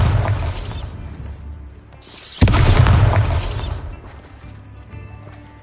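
Bombarda blast spell from Hogwarts Legacy, a sharp crashing burst with shattering debris that rises mid-clip, then a loud rumbling boom trailing off into a lingering roar.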